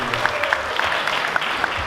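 A small group of teenagers at an evening mosque gathering claps briefly, individual hand claps standing out in an uneven rhythm over a murmur of voices and room noise.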